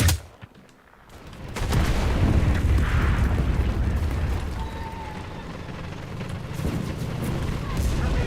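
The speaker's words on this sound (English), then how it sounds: "Bring in artillery!" Artillery fire in the World War II shooter Enlisted: a sharp blast opens, then a long rumbling barrage of heavy booms and crackling impacts rolls on steadily with no letup.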